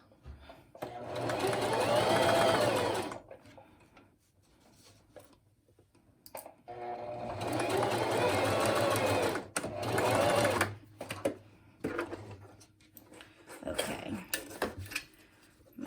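A sewing machine stitches the seam of a zipper pouch in two long runs of rapid, steady whirring, separated by pauses with small handling clicks and a brief voice.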